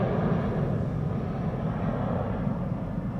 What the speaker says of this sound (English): that is KLM flight 537 to Kigali